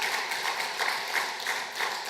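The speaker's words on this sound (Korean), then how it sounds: "박수 한번 보내주세요" A church congregation in Korea applauds during Sunday worship, a dense, even wash of many hands clapping at moderate level with no talk over it.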